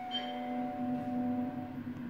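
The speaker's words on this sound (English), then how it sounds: "And there's a fire alarm going." A dormitory fire alarm rings at midnight as a steady, faint electronic tone with a sustained pitch, heard from a distance without any voices.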